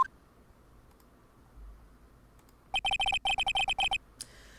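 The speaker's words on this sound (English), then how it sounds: "Sorry, I keep hearing my phone." A mobile phone rings in a quiet room. Two quick bursts of sharp, bright electronic tones repeat in a rapid, regular pattern, loud and close, after a near-silent stretch.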